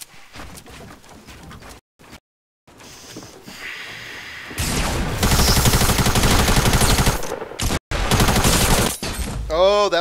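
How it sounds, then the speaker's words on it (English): Gunfire in the video game Fortnite, starting as sparse scattered shots and building into dense, loud bursts of rapid fire and fusillade in the second half, with brief silent gaps. "I don't know where the shots are coming from."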